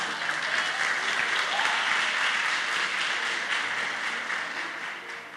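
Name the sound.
church congregation applause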